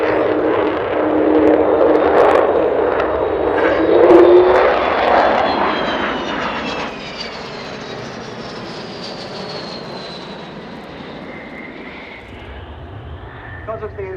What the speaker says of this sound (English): It's coming in now, stage right, for what will be a slightly unconventional Vulcan display